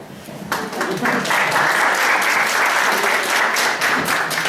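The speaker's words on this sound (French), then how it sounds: "Je vous demande d'applaudir" Applause from a conference audience at a talk on social networks starts softly, then swells into loud, sustained clapping that stays strong before easing slightly at the end.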